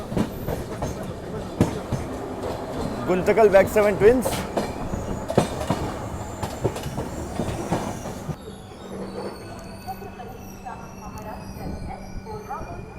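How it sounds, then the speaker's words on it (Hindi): The 11040 Maharashtra Express rolls into Badnera Junction, wheels clattering and squealing on the rails as the train slows, then fades into quieter station ambience with a brief public announcement over the tracks. "चलिए, फिलहाल हमारी गाड़ी पहुंच रही है बडनेरा जंक्शन रेलवे स्टेशन।"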